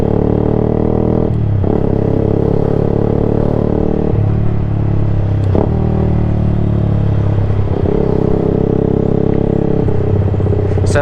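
A car engine with its exhaust removed revs loud and raw, throbbing through repeated throttle blips and gear changes, a harsh close rumble running without a break.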